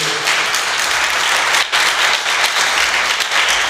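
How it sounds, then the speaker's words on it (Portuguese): Dense, steady clapping from a church congregation during a Portuguese-language sermon fills the room, close and even throughout with a brief dip partway. "Dá uma salva de palmas para a palavra de Deus"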